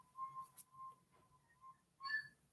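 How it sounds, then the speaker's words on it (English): A faint, thin whistle of a few short, wavering tones with brief pauses between them, over a quiet background. "I just heard a whistle, and that's what came out."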